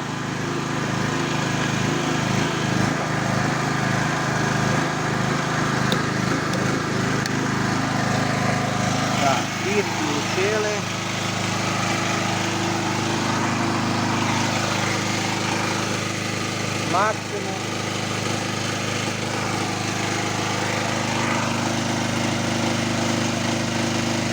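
Stanley SG 3100 petrol generator running under about 3 kW of load, a steady loud engine drone that holds throughout, its tone shifting slightly midway, with faint background sounds.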